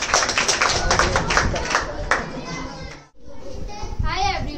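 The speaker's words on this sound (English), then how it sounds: "Let's clap for her," Children in a school classroom clap for a classmate, a brisk burst of close, dense clapping mixed with young voices chattering, cut by a brief lull before the noisy room picks up again.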